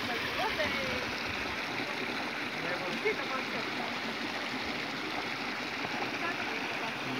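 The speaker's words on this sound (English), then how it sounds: "This is creek, and name of the creek is Black River." The Black River, a creek at Divčibare, flows with a constant broadband rush and gurgle. The sound stays steady and fairly close from start to finish, and no voices are heard.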